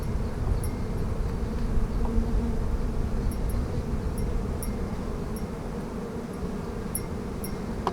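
Honey bees drone in a steady, dense buzz over a hive frame during a spring inspection, close and continuous with no voices.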